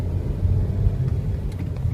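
Car driving along in a low gear, a steady, close engine rumble with road noise and slight swells in revving, no voices over it.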